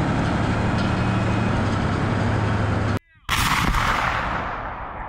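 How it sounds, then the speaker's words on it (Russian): A single heavy T-72A tank gun blast bursts out over a constant loud engine roar, then rumbles away as the droning noise continues. "Выстрел."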